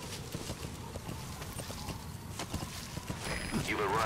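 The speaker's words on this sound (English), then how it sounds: "Horsey over here." Horse in Metal Gear Solid 5: The Phantom Pain, hooves clip-clopping in a steady walking rhythm at moderate loudness, with someone talking over it.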